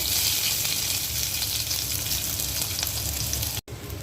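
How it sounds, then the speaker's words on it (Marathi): Onion sizzles in oil in a pan for Betki fish curry, a dense, steady frying hiss heard up close, ending in a brief cut and a quieter moment. "हे बघा कांदा भाजून झाला माझा"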